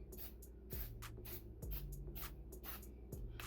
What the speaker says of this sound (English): just spray the inside of it